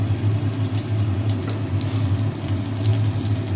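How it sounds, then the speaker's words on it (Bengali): Eggplant slices for an egg-and-brinjal dish fry in hot oil, giving a steady, dense sizzle that holds evenly over a low background hum, with no voices. "তেলটা গরম হয়ে গেছে, এবার আমরা বেগুনগুলোকে সাজিয়ে দেবো একটা একটা করে"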